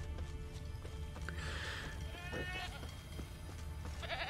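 A goat bleats in The Witcher III, a short wavering call rising over a low steady game ambience, with a few faint animal-like cries around it.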